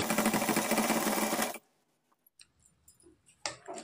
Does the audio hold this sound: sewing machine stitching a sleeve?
yes